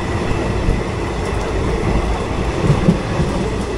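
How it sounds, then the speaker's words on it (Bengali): The Uttar Banga Express, Kolkata to NJP, races along the main line toward Naihati. A loud, continuous rumble and roar of fast-moving rail cars fills the whole stretch, close by. "ট্রেন খুব দ্রুত গতিতে চলছে"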